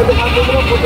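A goat bleats in short wavering cries at a busy livestock market in the Philippines, loud and close over crowd noise and nearby talk.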